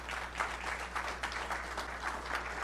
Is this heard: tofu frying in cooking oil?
no